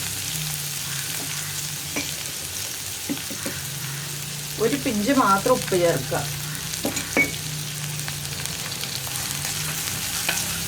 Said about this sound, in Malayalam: ഇനി ഉള്ളി ലൈറ്റ് ഗോൾഡൻ ബ്രൗൺ ആയി വരുന്നത് വരെ ഇളക്കി കൊടുക്കുക